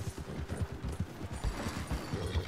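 Horse hooves clip-clop in Red Dead Redemption 2, a quick, steady galloping rhythm of low thuds, close and continuous, with no talk over it.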